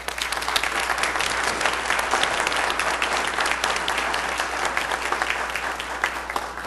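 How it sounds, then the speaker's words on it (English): A church congregation at a Sunday service at Wesley United Methodist applauds to welcome new members, dense, even clapping from many hands that holds steady throughout. "Let's welcome them with applause."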